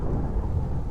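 Thunderstorm in Kerbal Space Program with a volumetric clouds mod: a deep, heavy rumble of thunder over steady rain, loud and low throughout a brief moment.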